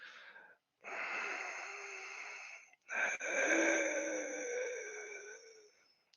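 Someone vocally imitates labored, struggling breathing, with two long raspy wheezing breaths, each drawn out for a couple of seconds and separated by a short gasp, loud and close.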